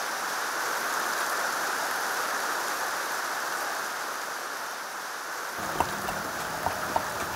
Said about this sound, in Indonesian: Wah, dari tadi cerah kok malah tiba-tiba hujan.